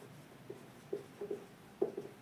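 Marker or chalk writing on a classroom board during a Class 8 maths lesson, heard as a few faint, scattered short squeaky strokes over a quiet room with no talk.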